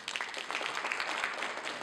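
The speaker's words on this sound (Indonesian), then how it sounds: "Tepuk tangan untuk kita semua." A crowd of students at an Indonesian student entrepreneurship event applauds, with dense, steady clapping filling the room throughout.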